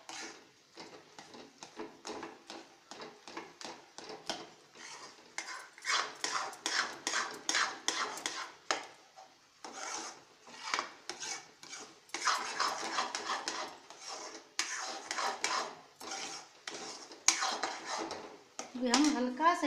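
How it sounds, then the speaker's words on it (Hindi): A spoon scrapes and clinks against a pan while stirring toast halwa, a fairly quiet run of rhythmic strokes with short pauses. "देखिए इसको ऐसे हिलाते रहिए"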